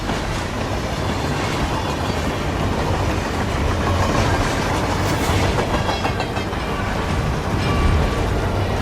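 A moving train in the Hitman 3 video game, a steady loud rumble with rhythmic clickety-clack of wheels on rails and a faint squeal, continuous throughout.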